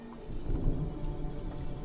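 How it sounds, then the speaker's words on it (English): Low rumbling thunder in the video game Detroit: Become Human, a steady deep roll with rain noise, moderately loud and continuous for about two seconds with no talk. "Is that thunder?"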